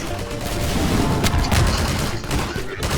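Rocket launcher fire in the video game Garry's Mod comes as loud, dense booming blasts and crackling bursts packed together over a few seconds, with no break.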